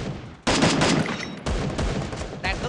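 Automatic gunfire in the video game Free Fire rattles in rapid, loud bursts, three close volleys of dense shots following one another with only brief gaps.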